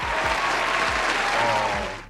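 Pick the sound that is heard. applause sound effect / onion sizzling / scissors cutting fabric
applause sound effect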